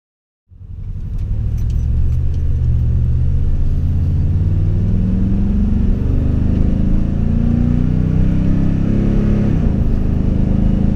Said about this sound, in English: I didn't go too crazy on the throttle that time.